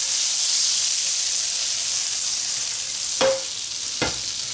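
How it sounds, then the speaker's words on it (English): Butter in a hot pan gives a steady, bright sizzle and hiss, loud and close, with two short clinks of a utensil near the end and no talking. "I'm going to take some butter here, we're going to put it in a hot pan"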